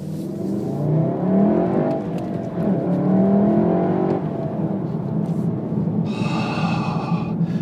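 A 2017 Volkswagen Golf R engine rising and falling in pitch through several rev sweeps, heard loudly from inside the car along with road roar, and a brief high whine near the end.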